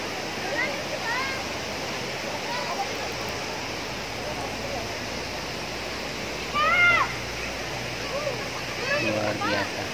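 Takapala waterfall in South Sulawesi, fed from the foot of Mount Bokoraya, pours with a constant broadband rush over rocks. Voices and children's sounds rise faintly above the steady water.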